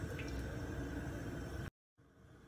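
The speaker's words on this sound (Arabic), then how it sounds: "في البداية هحط كمية طيبة من زيت الزيتون" Olive oil pours into a pan while cooking mussels, a continuous liquid gurgle and sizzle that runs steadily, then cuts to brief silence before a faint hiss resumes.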